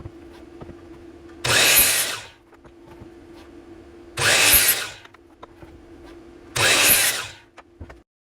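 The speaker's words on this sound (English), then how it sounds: "So I'm gonna cut these over at the miter saw" A miter saw cuts wood for a brace in three separate bursts of about a second each, evenly spaced. A low motor hum fills the gaps between the loud, close cuts.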